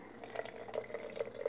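Whole milk pours into the top of a Chef'n Buttercup butter maker, a brief soft liquid trickle with faint splashing, close and quiet.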